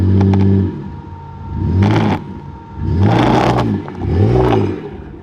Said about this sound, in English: we spun the wheels on the tyres